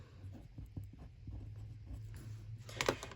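Pen scratching on paper while swatching Stickles glitter glue, quiet and close, in irregular short strokes with a brief louder tap near the end.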